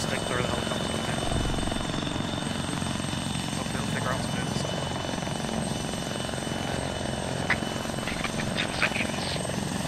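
A helicopter's engine and rotor drone loudly and continuously in the Arma 3 video game during an Afghanistan campaign mission, with people talking over the steady roar.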